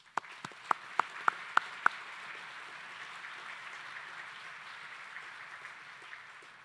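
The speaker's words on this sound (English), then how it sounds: "Let's give her a round of applause" Audience applause at an engineering excellence gala opens with a few sharp, distinct claps before settling into a softer, sustained wash of clapping from the room.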